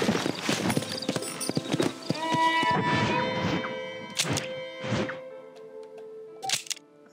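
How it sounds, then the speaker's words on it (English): Horse hooves clip-clop on the ground in Red Dead Redemption, a quick rhythmic trot of thuds that later slows to a few scattered steps, with game sounds behind. "let me get my horse over here"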